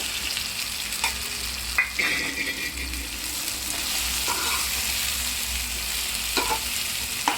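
Chopped capsicum sizzles and fries in a hot pan on a low gas flame, a steady crackle with a few sharp stirring scrapes and clinks scattered through, no voices.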